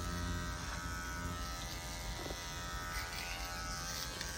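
An electric clipper trims and squares off the line of a beard, its steady close buzz running the whole time with slight shifts as the blade works along the edge.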